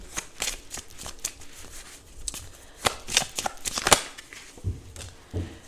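Oracle cards shuffled by hand during a tarot-style reading, with a string of quick, crisp riffling and slapping bursts at irregular intervals, close and fairly soft.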